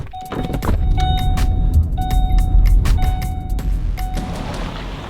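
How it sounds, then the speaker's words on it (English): A car drives along with a steady low road rumble, while a series of short repeated clicks and a chiming tone sound over it at about one-second intervals. "let's hop in the car, head on out"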